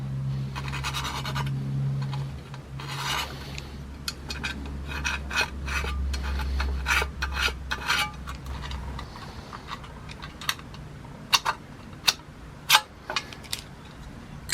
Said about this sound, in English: I'm going to have to scuff up the metal to give it a good key